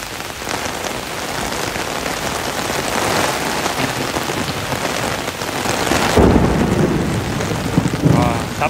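Heavy rain pours down steadily in a fierce storm with strong wind, a dense loud roar that swells louder near the end.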